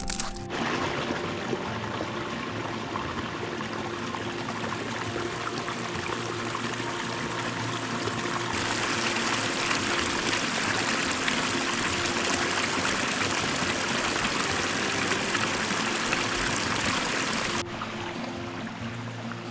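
A small mountain creek runs down an icy hiking trail in an Idaho basin, a steady close rushing and splashing of water that swells louder through the middle and eases near the end, with no voices.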